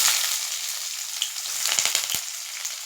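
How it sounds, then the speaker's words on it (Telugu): Onion and dals frying in oil in a pan for a cabbage and moong dal curry produce a steady bright sizzle, with a few soft stirring knocks near the end and no talking. "కరివేపాకు ఇవి కూడా వేసేసుకుని ఫ్రై చేసేసుకోవాలి."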